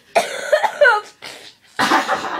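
A person gives several rough, voiced coughs in short bursts close to the microphone. The coughs are separated by brief pauses.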